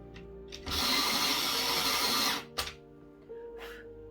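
A colored pencil is ground in an electric sharpener, a loud whirring burst lasting under two seconds, followed by a couple of short knocks and faint rustles.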